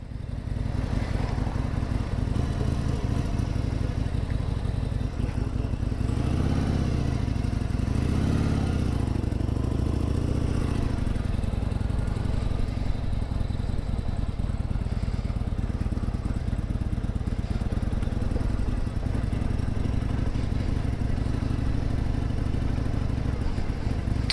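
A Harley-Davidson motorcycle with a sidecar rides along, its engine giving a continuous steady rumble throughout, close and fairly loud, with little change in pitch.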